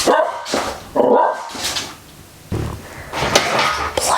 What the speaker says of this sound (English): Bloody dog, man.